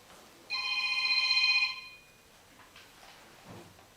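A phone rings loudly for just over a second during a housing authority board meeting in a room, a bright trilling electronic tone that then stops, leaving faint room noise.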